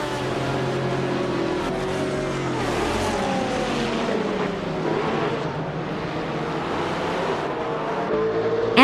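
A 2001 BMW M3 E46 GT-R race car in a racing game, engine roaring continuously at high revs with rising and falling pitch through gear changes, loud and close, with other cars droning behind.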